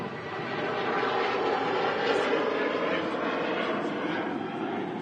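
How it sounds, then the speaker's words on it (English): Ryanair airliner departing Manchester Airport on runway 23: a sustained, broad jet-engine roar at a middle distance, steady throughout with a slight swell near the middle. "There's another Ryanair departing on 23 right here in Manchester."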